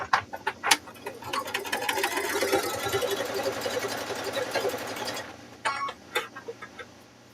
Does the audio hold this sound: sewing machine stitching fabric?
yes